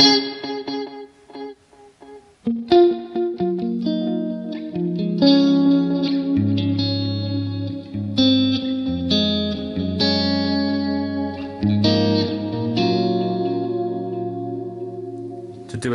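An electric guitar plays through a tape delay preset on a Line 6 HX Stomp: sustained notes and chords with repeating echoes trailing behind each phrase, played alone with no voices.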